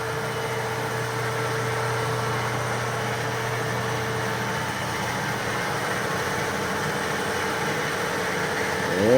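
A Kearney and Trecker 2HL universal milling machine runs with a steady, quiet motor hum and constant mechanical drone, close by and without talk, swelling slightly at the end.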